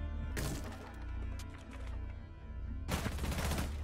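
Gunfire in Rainbow Six Siege, a close rapid burst at the start, scattered single shots, then a second sharp burst near the end, with no talking.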